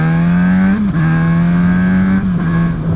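An inline-four motorcycle engine runs at a loud, steady, high-pitched drone, close by, with brief dips in pitch at gear changes before it pulls on again.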